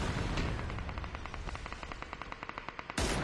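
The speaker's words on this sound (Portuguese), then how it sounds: "Ah, explodiu, velho." Rapid gunfire rattles through a loud battle scene in a solo-versus-squad shooter match, with a burst of regular shots building toward a sudden loud blast at the end; no one talks.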